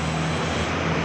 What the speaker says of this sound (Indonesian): Mobil kecil dan mobil besar memacu kendaraannya dengan cepat.